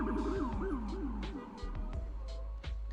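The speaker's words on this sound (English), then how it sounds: "I noticed the ambulance, sirens blaring, pull into the front of the home" An ambulance siren blares outside a home, its rising and falling wail cycling several times close by, with sharp clicks and knocks scattered over it.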